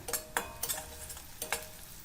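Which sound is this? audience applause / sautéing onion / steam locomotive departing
sautéing onion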